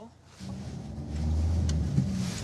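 An Uber car pulls up on a street, its engine note swelling over light traffic and ambient noise as it arrives, with a voice briefly audible in the background.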